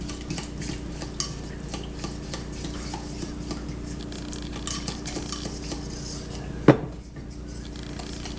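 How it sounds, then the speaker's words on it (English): A utensil stirring white chocolate into melted butter in a pan, with repeated soft scraping and light clinks and a sharper knock near the end, close and fairly quiet. "I think if I just keep stirring this, the white chocolate will melt in the butter."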